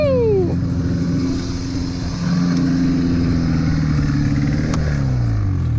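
A modified Yamaha Phazer snowmobile engine revs loudly nearby, its pitch sweeping down, then holding a buzzing drone before another rev dips and rises, with voices in the background.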